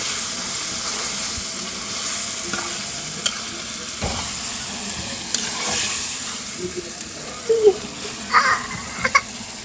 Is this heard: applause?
no